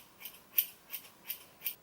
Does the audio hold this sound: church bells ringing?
no